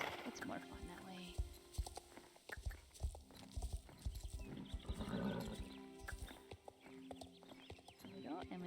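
A horse's hooves clip-clop steadily on a woodland ride in the online horse game Star Stable, with occasional whinnies, quiet and underneath a person talking throughout.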